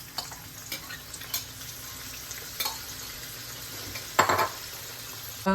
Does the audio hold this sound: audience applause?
no